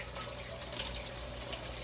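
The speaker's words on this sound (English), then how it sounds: "That's the water running." Water runs from a tap in a steady, soft hiss close by, with no talking over it.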